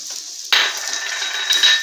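A spoon scraping and stirring milk powder ladoo mixture in a pan, a sudden close scrape followed by continued soft rubbing and clinks, brief and alone.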